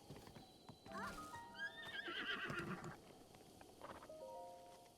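A horse in The Legend of Zelda: Breath of the Wild whinnies with a rising, wavering neigh, followed by a shorter second call, over faint hoof clip-clops and background ambience.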